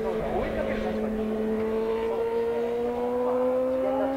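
A racing motorcycle at the 1990 Suzuka 8 Hours endurance race passes with a high engine whine that rises slightly in pitch, loud and sustained, under continuous commentary talk.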